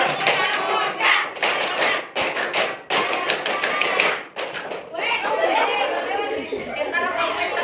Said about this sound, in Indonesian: kasih tepuk pramuka